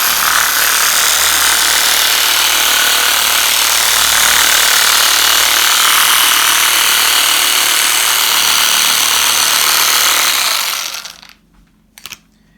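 A loud, steady motorized buzzing from a handheld recovery massage tool runs continuously, close by, then cuts off abruptly near the end, leaving a couple of faint knocks.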